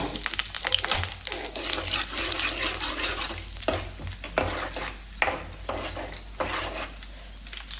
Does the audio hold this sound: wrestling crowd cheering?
no